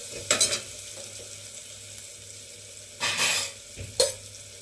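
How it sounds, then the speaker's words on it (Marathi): Onion and tomato sauté in a pan for green moong curry, stirred with a spoon in a few brief bursts of scraping and sizzle, loudest near the start and again toward the end, over a quiet background. "व्यवस्थित परतून घेऊ कांदा टोमॅटो आपला परतून झालाय"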